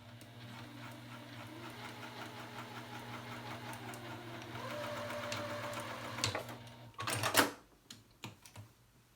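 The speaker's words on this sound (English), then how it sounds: "So I'm going to sew all the way down this edge, and that is going to enclose the raw seam." A sewing machine stitching down the edge of a pillowcase to enclose the raw seam, a steady close mechanical whir that speeds up slightly, then stops with a few clunks and handling sounds.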